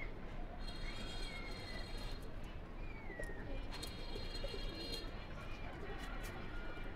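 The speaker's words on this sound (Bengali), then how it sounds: "এটা বাঘা একটা নর কবুতর" A male pigeon cooing softly at close range, a few low throaty coos over a steady noisy background with faint chirps.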